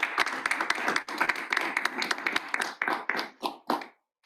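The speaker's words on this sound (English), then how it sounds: "So please a round of applause for Professor Dr." A room of attendees at a bootcamp talk applauds an introduced professor, a dense round of hand claps that thins into a few scattered claps and stops after about four seconds.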